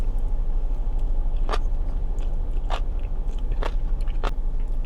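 Several sharp crunchy bites into ocean salad, a seaweed salad, sound in an irregular series of four or five close, loud crunches over a steady low rumble of background noise, with no talking.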